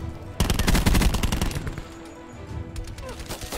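Rapid burst of video game gunfire, loud and close, crackling for about a second before giving way to quieter scattered shots and low background sound.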